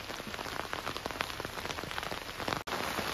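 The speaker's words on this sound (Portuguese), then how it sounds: "E a chuva não para" Steady rain pours onto a riverbank during bank fishing, a dense, even patter of drops striking surfaces close by throughout.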